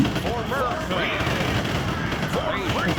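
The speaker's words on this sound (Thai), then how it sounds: "ปืนกลเบา" Light machine gun fire in the Ultimate Epic Battle Simulator video game, sustained rattling bursts layered over a busy battle din, with a voice chattering underneath throughout.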